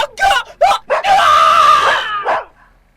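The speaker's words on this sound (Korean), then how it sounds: "형은 비명을 지르며 쓰러졌습니다." A man screams in fright in a dramatized Korean folktale, with a yellow dog barking and yelping close by in short, loud bursts before one long sustained cry that fades out.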